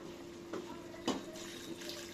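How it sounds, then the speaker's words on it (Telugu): Measured water poured into a pot of frying chicken and rice for biryani, a few soft splashing bursts over a faint steady background, with one louder gush near the middle. "నీళ్ళు వేసుకుందాం."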